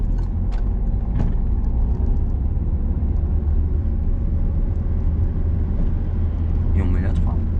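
A car's engine rumbles low and steady during a driving lesson as it pulls away and accelerates, a continuous close drone with a few faint clicks and ticks over it.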